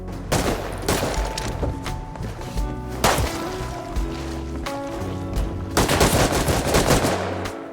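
An M39 rifle fires in the survival game Rust, delivering loud, rapid volleys of sharp shots in several bursts over a steady droning tone.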